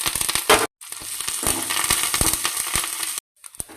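Dal and dried red chilies frying in hot oil for a village-style coconut chutney, a steady close crackling sizzle with brief gaps and sharp pops, no voices.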